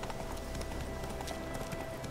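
Roach, a horse in The Witcher 3, trotting with steady clip-clop hoofbeats on a road, close and continuous across the short stretch, set against ambient game sound.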